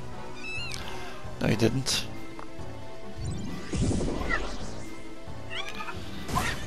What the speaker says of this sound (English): That's a cute little cat.